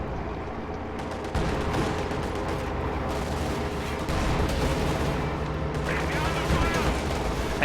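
Tank guns and anti-tank guns firing in a World War II strategy game, with a KV-8 and a Panzer IV trading shots; dense, continuous booms and crackling gunfire overlap throughout, with a louder burst partway through.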